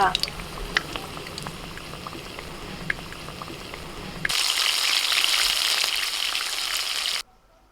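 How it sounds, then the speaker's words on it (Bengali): Mushroom pakoras sizzle in hot oil with a steady, dense hiss that grows louder and brighter partway through before cutting off abruptly. "দেখো লাল লাল করে একটু ভাজবে মাশরুমের পকোড়া"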